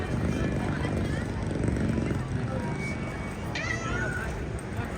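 A cat meowing at a theme park queue area, a brief high meow-like cry rising over a loud, busy crowd backdrop with people chattering throughout.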